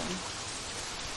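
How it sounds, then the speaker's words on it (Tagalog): Drizzle falls steadily at the Isla Rebelde campsite in Antipolo, blowing in under shelter as a close, even wash of hiss with no breaks. "pinapasok din pala kami ng ulan, yung anggi ng ulan"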